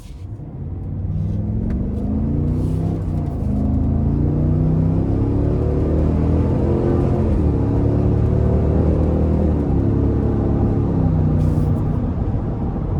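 A 2025 Cadillac Escalade Platinum SUV accelerates, its engine note climbing through several gear changes in a deep, rising rumble heard from inside the cabin, steady and fairly loud, with no talking.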